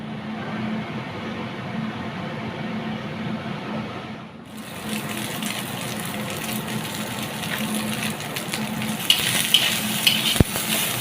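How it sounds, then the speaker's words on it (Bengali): Leafy greens sizzle continuously as they fry in a hot pan, with occasional stirring scrapes and a few sharp taps of a utensil near the end. "শাকটা ভাজা করব"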